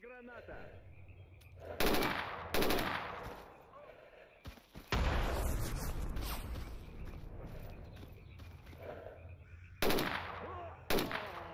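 Gunfire in STALKER Anomaly comes as several sharp, heavy shots and one longer rolling burst, loud and close against a quieter ambient background.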